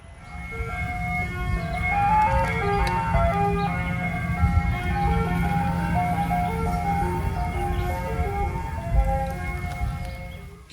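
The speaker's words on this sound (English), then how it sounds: "Please, God, let that not be the ice cream truck." An ice cream truck plays its tinkling melody continuously nearby, the tune ringing out clearly over a low engine rumble.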